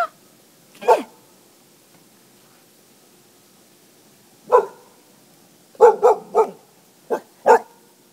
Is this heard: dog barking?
yes